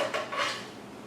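A short clattering, rattling pour as blanched green beans tumble into an ice bath, fading quickly.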